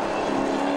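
EH Holden race car at full throttle on a dry circuit, a loud, steady engine drone held close for under a second as it passes.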